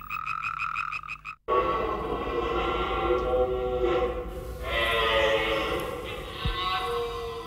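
Toads and tree frogs croak at night in an old forest, a loud, dense chorus of overlapping calls. It opens with fast rhythmic trilling, then after a short gap becomes a sustained wall of croaks that swells and eases.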